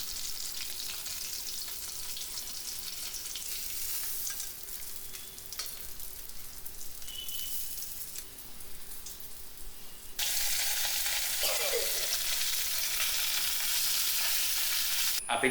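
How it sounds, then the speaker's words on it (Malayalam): Fish fries in a hot pan at home, a steady crackling sizzle that grows louder and brighter partway through, with faint clinks and water sounds in the background. "ഏതായാലും വറുത്ത് കോരാണ്."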